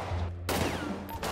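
A short, sharp burst of rapid gunfire in the GTA roleplay video game, loud and close, lasting about a second.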